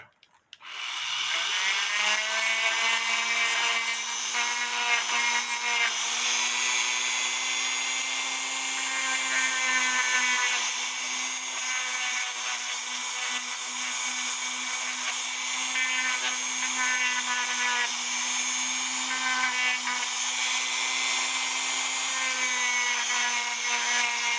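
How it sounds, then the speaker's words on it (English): A Dremel rotary tool fitted with a sanding disc spins up and runs continuously, cleaning a part from a 1908 cuckoo quail clock; a steady high-pitched whine holds close and loud for the whole stretch with no talk. "with my Dremel, I'm going to make it nice and clean really fast"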